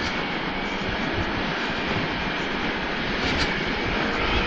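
A Bristol Maxie 160 keyless scooter's engine revs hard during a test ride on the road, a loud, steady broadband roar with wind rush that holds throughout and swells slightly near the end.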